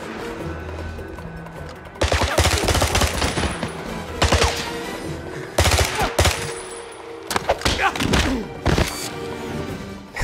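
Bursts of automatic gunfire in 007 Blood Stone on PS3, loud rapid volleys in several separate clusters with brief quieter gaps between them, close and punchy.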